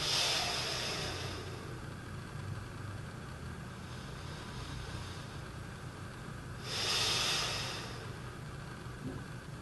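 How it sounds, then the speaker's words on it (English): Slow, deep breaths drawn through the nose into the belly during a relaxation breathing exercise, audible as two long, airy inhales, one at the start and one near the end, heard close against faint background hum. "start breathing through your nose very deeply into your belly"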